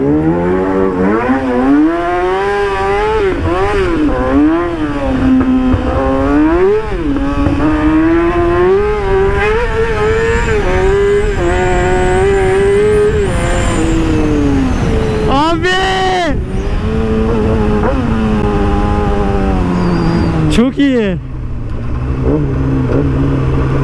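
A Yamaha R6 motorcycle with its silencer removed roars loudly and continuously, engine pitch rising and falling through revs with sharp pops, while a rider talks over it throughout.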